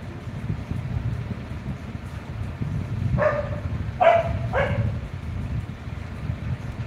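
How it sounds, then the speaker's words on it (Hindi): Stray dogs barking outdoors, heard as three short, fairly distant barks in quick succession partway through, set against a steady low rumble of background noise. "बाहर आवारा ही कुत्ते हैं कुलविंदर जी, आवारा।"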